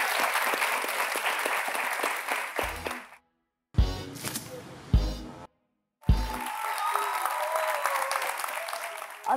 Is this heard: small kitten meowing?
no